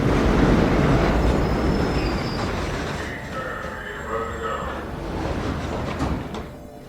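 A subway train rumbles loudly along the tracks with rattling and faint wheel squeals, the roar easing slightly as it keeps moving.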